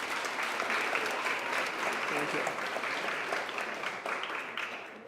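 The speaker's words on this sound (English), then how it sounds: "So a round of applause for everybody" Steady audience applause fills a community meeting hall, loud and continuous for about five seconds, with a brief spoken thanks over it.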